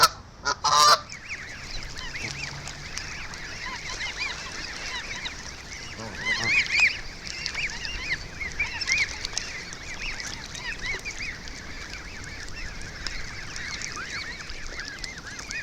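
Goose goslings peep continuously near a canal, a dense chorus of small high chirps with occasional louder honks from adult geese nearby, no talking.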